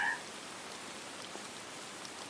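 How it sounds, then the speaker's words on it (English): Steady rain falls throughout a 1940s-style noir scene, a dense, even patter of drops on a surface that holds at a constant level from start to finish with no voices. "The rain keeps falling."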